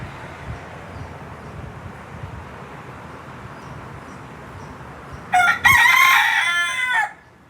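A rooster lets out one loud, close crow lasting nearly two seconds, rising out of a low rumbling ambient background in the final part.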